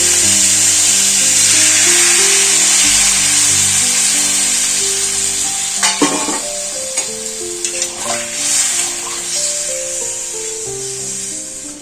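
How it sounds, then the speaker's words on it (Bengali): Water poured onto sautéed spices in a hot pan sets off a loud, hissing sizzle that starts strong and gradually softens with scattered crackles and stirring scrapes, no speech. "এবার জল দিয়ে দেবো"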